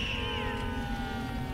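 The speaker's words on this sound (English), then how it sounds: "I thought that was the cat flying through there." A cat meows in a TV show, a short drawn-out cry that rises and falls over a dense, steady backdrop of music and noise, fairly faint.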